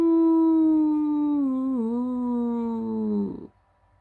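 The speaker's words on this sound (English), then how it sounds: "we all started hearing the howling noises" A single long, loud, wavering howl rises and then slowly falls in pitch for about three seconds before cutting off into silence, heard during a night of camping in Alabama.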